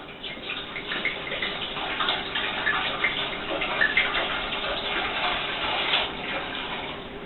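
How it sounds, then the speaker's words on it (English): Water poured into a pot for making Glühwein, a steady splashing trickle running continuously at close range with no voices. "Then we also need to put in our water."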